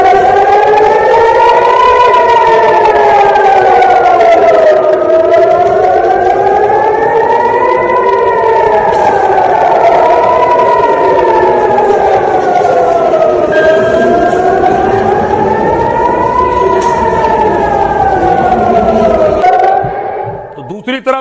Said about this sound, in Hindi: ये इजराइल का बेन गुरियन एयरपोर्ट है जहां सायरन गूंज रहे हैं.